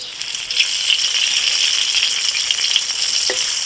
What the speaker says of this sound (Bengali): এবার ফোড়নের জন্য শুকনো লঙ্কা আর তেজপাতা দিচ্ছি।